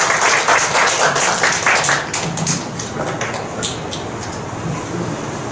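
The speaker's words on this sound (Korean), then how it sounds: "여러분들 박수 좀 부탁드립니다." A lecture-hall audience at a special talk in a hospital applauds in quick, dense clapping that stays strong for about two seconds, then thins into scattered, softer claps.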